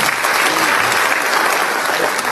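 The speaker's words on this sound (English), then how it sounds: "I think she deserves a louder applause." A crowd at an official census event gives the minister a loud, continuous round of applause, a dense even wash of clapping from many hands with no speech over it.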